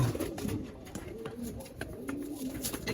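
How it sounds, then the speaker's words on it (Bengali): Pigeons, including a black-and-white female, coo softly nearby in low, repeated rolling calls, with faint background noise and no clear speech. "এই হলো মাদি কবুতরটা"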